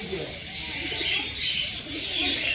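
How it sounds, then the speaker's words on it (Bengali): Soft pigeon coos blend into a busy outdoor ambience at a park mini zoo in Baruipur, with broad hiss, steady and fairly faint, with no talking. "কিছু পায়রা রয়েছে, বকবকম করছে পায়রাগুলো"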